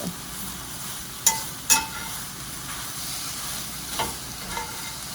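Homemade French fries frying in a pan give a constant low sizzle, broken by a few sharp knocks and scrapes as the pieces are turned, close and moderately loud.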